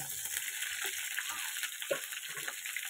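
Ridge gourd, potato and vegetable stems fry lightly in hot oil with a soft continuous sizzle and scattered small pops and stirring rustles, fairly quiet throughout.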